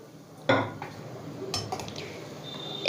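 Boiled chana dal and potato pieces are tipped into a cooking pot with a sharp metallic clank of a utensil against the rim, followed by softer scrapes and clinks, close and brief.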